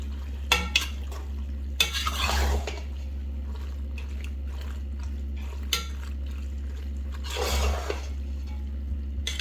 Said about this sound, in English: Break up those clumps of noodles